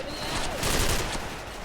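Dense, rapid automatic rifle fire from a Spider XM8 in a shooter video game rattles continuously and loudly for the whole short stretch, blending into a thick wash of noise.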